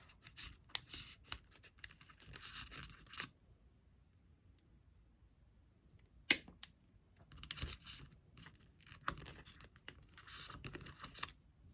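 Scissors snip paper decorations for a teacup-shaped fake cake in quick bursts of close cuts, broken by a quiet pause and a sharp click before more snipping.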